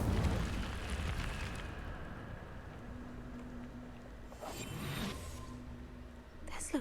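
Incendio fire spell igniting something in Hogwarts Legacy: a rushing, eruptive whoosh of flame at the start that settles into a lower roar. A second flare follows later, with quiet speech in the background.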